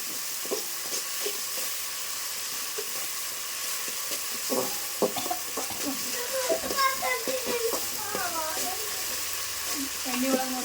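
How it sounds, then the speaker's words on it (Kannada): Green chili paste and chili powder frying in oil for a spicy home-cooked meal, a steady low sizzle under repeated scraping and stirring clatter, with brief faint voices in the background. "ಖಾರ ಒಂದು ಸ್ವಲ್ಪ ಫ್ರೈ ಮಾಡ್ಕೋಬೇಕ್ರಿ"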